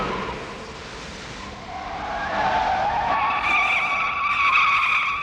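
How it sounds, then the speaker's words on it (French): Tire screech sound effect from the 1984 Terminator film mix, a loud sustained skidding squeal that rises in pitch and holds steady for several seconds, with car engine noise underneath. "comme le crissement de pneus"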